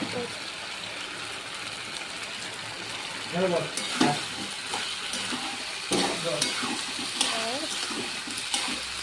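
A thick finished gravy dish is tossed and stirred in a hot pan, giving a steady sizzle with scraping and clattering bursts. A voice talks briefly over the cooking.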